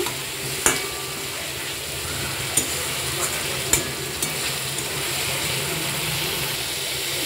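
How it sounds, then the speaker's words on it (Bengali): Eggs frying and being stirred in a pan for a spiced Bengali egg dish, giving a steady close sizzle broken by a few sharp spoon scrapes and clicks against the pan. "আজকে বাড়িতে রুটি আর ডিম কষা হচ্ছে"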